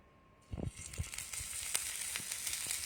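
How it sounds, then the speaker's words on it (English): After a quiet start, chicken tikka pieces hit a hot pan and a loud sizzle begins, continuing with steady crackling and popping. "You should hear this sizzle."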